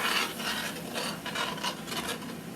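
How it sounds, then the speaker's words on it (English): A utensil scrapes the bottom of a cast iron Dutch oven while deglazing with beef broth for elk chili, a close, rhythmic series of rough rasping strokes repeated about half a dozen times with no talking. "scraped off the bottom here"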